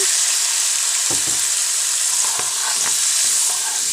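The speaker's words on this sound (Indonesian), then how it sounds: "masukkan 1 cawan air" Chillies fry in a hot pan, a loud steady sizzle and hiss with a few soft clinks and stirring knocks, as water goes in for a fish pesmol dish.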